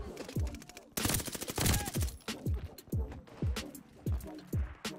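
Gunfire in a multiplayer shooter video game beta, with rapid bursts and repeated single shots in an irregular rhythm, fairly quiet throughout, with occasional faint speech underneath.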